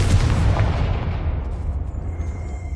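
A Confringo spell explodes in Hogwarts Legacy with a loud, close blast of low rumbling boom and crackle that swells at once and then slowly fades into a lingering rumble.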